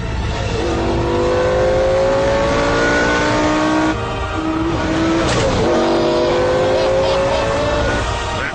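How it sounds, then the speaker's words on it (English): A powerful 5-litre V10 engine revs loudly and climbs through gears, pitch rising in long sweeps with a short break between pulls. "The sound of a 5-litre V10 engine."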